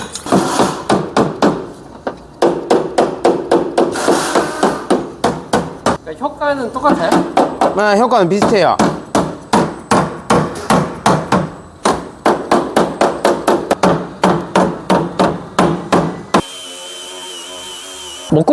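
A Halder anti-vibration dead-blow hammer strikes wood in a long series of loud, sharp, closely spaced blows, with people talking between and over the impacts.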